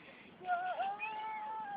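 A pet cat meows once in a drawn-out, rising and falling cry, close and fairly soft against a quiet room.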